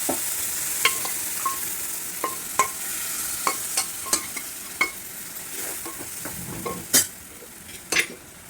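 Spices roast in a pan while a spoon stirs and scrapes, producing repeated sharp metallic taps over a continuous soft sizzle, close and fairly loud.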